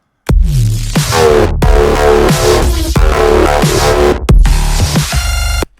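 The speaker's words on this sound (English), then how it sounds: "So with just the overdrive, it sounds like this." Synth patch built in Serum and run through Ableton's Overdrive for a track remake, loud gritty distorted notes in a rhythmic pattern with sharp attacks, one starting at the end and then cutting off abruptly.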